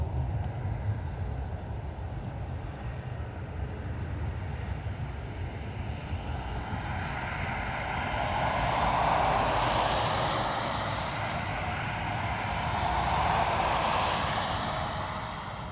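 A Lufthansa Airbus A320neo in 100th anniversary livery at Dublin Airport, its distant engine rumble swelling gradually to a moderate peak and easing, with a second smaller swell over steady low background noise.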